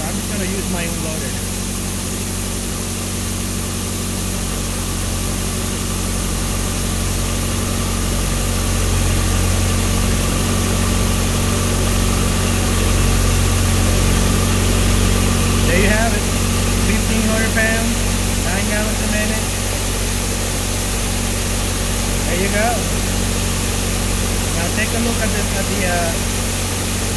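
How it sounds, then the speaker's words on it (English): A hydro jetter engine idles in a steady, droning rumble with an even hum throughout, joined by a few faint intermittent clicks and rattles. "I don't want to give the engine more gas"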